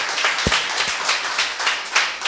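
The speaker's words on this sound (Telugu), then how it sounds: "చప్పట్లు కొట్టండి గట్టిగా" A church congregation at Sunday worship claps loudly together, a brief dense burst of applause filling the hall.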